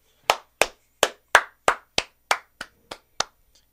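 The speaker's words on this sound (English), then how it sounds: "Give yourselves a round of applause for making it to April." About ten sharp, close hand claps at a steady, slightly slow pace, each crisp and distinct with silence between, from a single person on a sports podcast and fading a little toward the end.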